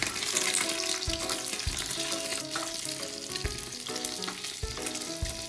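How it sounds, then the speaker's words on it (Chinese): Tofu skin frying in plenty of hot oil in a wok, a dense crackling sizzle with occasional sharper pops and scrapes, close and continuous without any voices. "锅热倒油，多倒点， 油温5成热，开始放腐竹"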